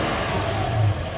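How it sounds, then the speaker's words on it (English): A Toyota 2UZ-FE 4.7-liter V8 engine, running during a coolant replacement, blips briefly as the throttle is flipped, a short loud rise in engine note over a steady running drone before dropping back. "So you can rev it"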